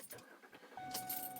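Keys jingle briefly as they slide into the ignition of a 2009 Ford Edge, then a steady electronic chime sounds and holds to the end, all close and clear.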